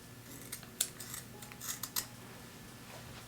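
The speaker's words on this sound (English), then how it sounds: "I'm just gonna cut the lock off." Scissors snipping through a lock of natural hair, a few sharp close metallic snips spaced irregularly over a quiet room background.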